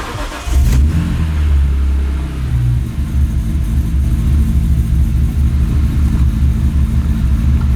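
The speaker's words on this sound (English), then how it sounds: "Listen to that idle, bro." A rebuilt car engine cranks and fires on its first start, settling into a loud, steady, rumbling idle close by with no talk over it.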